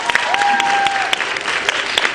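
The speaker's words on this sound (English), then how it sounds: "Give them a round of applause." A theater audience applauds the Meadowbrook Players before their Lewis and Clark Expedition show: a dense, steady wash of many hands clapping throughout, loud and close, with a faint sustained tone running beneath it.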